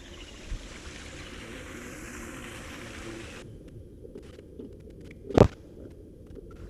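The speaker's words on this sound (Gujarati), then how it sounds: "મોટર બહુ પાણી કાઢે છે." An irrigation motor pump pushes water through a farm field being planted with onions. It makes a steady low rumble of running water and machinery at moderate distance, with one sharp knock near the end and no speech.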